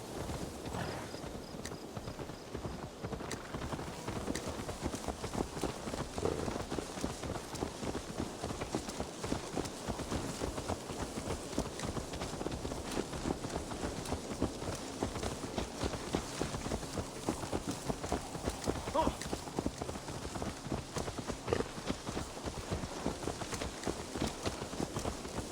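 In a video game, a horse's hooves clip-clop steadily and continuously on the ground, a brisk, even rhythm of hoofbeats that carries on for the whole stretch at moderate loudness.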